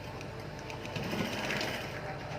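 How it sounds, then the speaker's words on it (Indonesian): A sewing machine stitches the sleeve of a baby dress, running as a continuous close mechanical whir with a fast rattling hum that swells slightly midway, no voices. "Lalu kita jahit bagian lengan, ujung lengan sampai pinggang."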